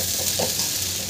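A spoon stirs soaked sabudana mixed with peanut powder in a pan, giving a quick, close scraping and stirring sound over a soft sizzle.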